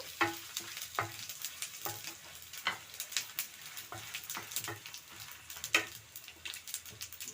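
Mustard and fenugreek seeds frying in oil for a chutney, a soft sizzle broken by scattered crisp pops and crackles, close but fairly quiet.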